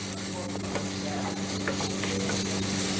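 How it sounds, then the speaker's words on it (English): Anchovy fillets and garlic sizzle in a pan as a spoon stirs and breaks them up. The frying hiss is close and steady, with light scrapes and clicks of the spoon, and no voices. "Just sort of stir them around a few times."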